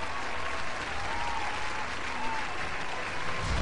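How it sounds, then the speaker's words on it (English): Sustained applause from a StarCraft tournament crowd, steady and dense clapping throughout with a faint voice mixed in. "can I get a round of applause again?"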